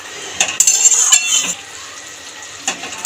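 A spoon scrapes and clinks against a pan as ghee is stirred into Bengali fig curry (dumurer dalna), with a soft sizzle beneath, in close, irregular bursts that fade out before a few final taps.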